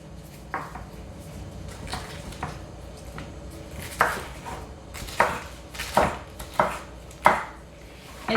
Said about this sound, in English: And it's just a rough chop.